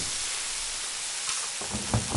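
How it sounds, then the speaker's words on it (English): Onions fry in olive oil and a knob of butter in a pan, giving a steady close sizzle with a few louder crackles and spits near the end. "I've got my olive oil in there, the onions are well frying, and then a big knob of butter"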